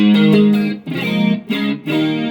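An electric guitar plays shimmering chords with a wide, swirling chorus effect, several strummed bursts separated by short gaps, loud and close.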